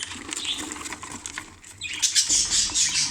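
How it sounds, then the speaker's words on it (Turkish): Female budgerigar flapping its wings inside a nest box, a burst of fluttering and scratchy patter that grows louder and busier toward the end, close and without speech. "Dişimiz çırpınıyor. Çıkmaya çalışıyor."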